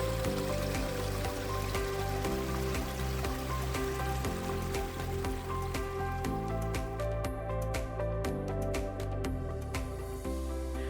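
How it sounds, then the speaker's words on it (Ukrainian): A mountain stream near Mount Kozhazh, where hikers refill their water supplies, gives off a steady, soft babbling and trickling with no voices. "поповнили запаси води в недалекому потоку"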